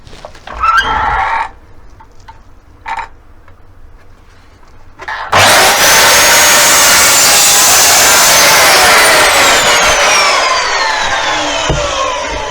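A saw cuts a small piece off the end of a board of reclaimed wood for a cottage coat rack, loud, close and continuous rasping strokes after a few quieter knocks and handling sounds.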